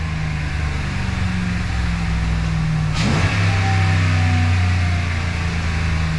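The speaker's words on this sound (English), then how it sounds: "So we're just gonna push this down a little bit, give it some throttle." A Dual Spark HEMI engine idles steadily, then picks up throttle with a quick rise in pitch before settling into a higher, sustained hum with no talking.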